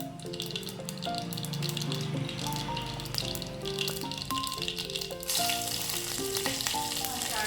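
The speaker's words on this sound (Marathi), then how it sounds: "छान जिरं मोहरी तडतडू दिली." Cumin and mustard seeds crackle and spit in hot oil for tempering, a dense sizzling patter running beneath loud, continuous background music.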